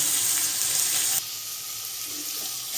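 Ground spice water poured into frying masala makes a loud hissing sizzle that drops sharply partway through to a quieter steady bubbling, close and alone.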